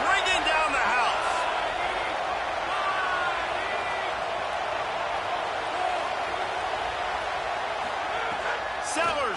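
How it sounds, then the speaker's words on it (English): Loud stadium crowd roaring steadily in College Football 27 during a South Carolina vs Clemson game, a continuous wash of noise with voices on top throughout. "this crowd is bringing down the house"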